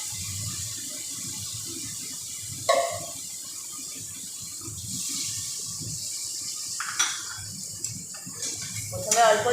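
Water is stirred into a spice paste for katla fish curry, a low wet mixing and scraping in the pan, with a few brief clinks, under quiet talking.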